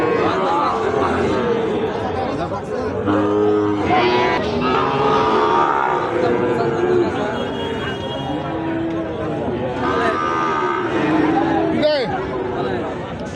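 Gir and Sahiwal bull calves moo a couple of times amid loud, constant crowd chatter and people talking at the busy Ambari cattle market.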